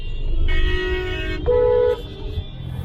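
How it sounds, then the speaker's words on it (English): Car horns in Cairo traffic blare close by, first one long toot and then a second, higher-pitched honk, over a low hum of street noise. "And the blowing of horns"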